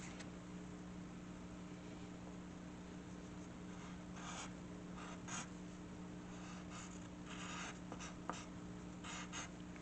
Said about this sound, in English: Last but not least, we draw these small thrusters on the back.